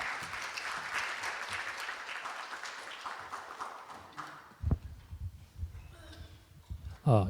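Applause from the audience at a book launch event in a hall, as a lawyer is introduced, a dense patter of clapping that fades out, followed by a few thumps and handling noises.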